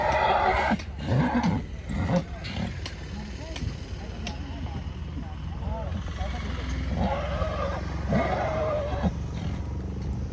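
A young stud farm colt arriving at the Pushkar camel and horse fair gives loud neighs and whinnies, with bursts near the start and again later, amid crowd noise and people talking.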